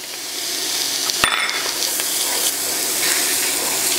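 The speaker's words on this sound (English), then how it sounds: "And we're gonna cook this down for about 5 minutes or so to let the ingredients soften up" Sweet onion and serrano peppers sauté in a pot for a chicken pozole, a steady broadband sizzle with one sharp utensil clack partway through, fairly loud and continuous.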